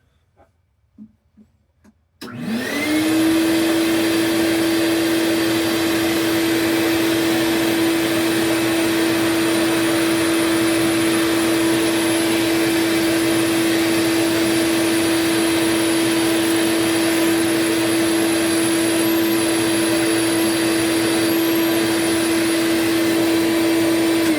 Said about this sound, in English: got that tray nice and vacuumed off and dusted. I'm gonna do the same thing right here for the disk drive